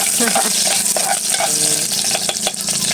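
Garlic sautéing in hot cooking oil for a ginisa, a loud continuous sizzle with repeated spatula scrapes and stirring clinks close by.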